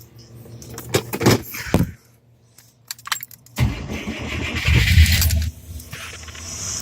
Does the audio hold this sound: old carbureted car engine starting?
yes